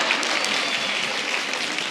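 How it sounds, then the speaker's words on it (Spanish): Audience at a talk on emotions and illness applauds briefly, a steady wash of clapping throughout the short stretch. "Un aplauso para Yao"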